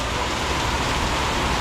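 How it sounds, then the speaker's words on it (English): Torrential rain pours down in a dense, steady hiss with no pauses, close and fairly loud throughout the short stretch. "the rain is torrential"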